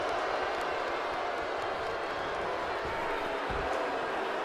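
A wrestling arena crowd in WWE 2K19 keeps up a steady, dense roar of murmuring and shouting, a continuous wash of noise with no single standout burst.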